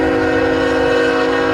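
A train passes a railroad crossing in Monette, sounding a loud, sustained, tonal horn over the steady rumble of the rail cars, with no talking.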